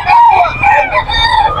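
A rooster, one of several gamecocks offered for sale at a market in Bocaue, Bulacan, crows loudly and close in a single drawn-out call with a warbling pitch, lasting the whole brief moment.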